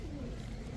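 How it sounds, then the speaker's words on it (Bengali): Indian high flyer pigeons, a running pair, cooing softly and continuously at close range in a short burst, with some low background noise. "এখন দেখাবো ইন্ডিয়ান হাইফ্ল্যান নাপ্তা কবুতর, একটা রানিং জোড়া।"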